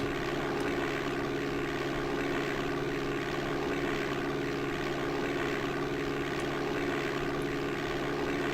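A propeller airplane engine running at full throttle in Flight Simulator 5.1 on DOS, a steady, loud, droning roar with a constant buzzing tone that holds without a break and has no talking over it.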